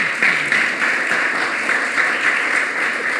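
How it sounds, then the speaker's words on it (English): A seated audience at a report launch event on Black music in Liverpool gives a panel a round of applause, a sustained, even wash of many hands clapping with no voices. "Can we have a round of applause, please?"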